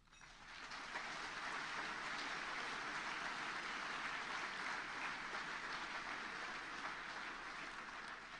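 A dinner audience in Saskatoon applauds in a steady, dense wash of clapping that swells in within the first second and holds evenly to the end, with no voices rising above it.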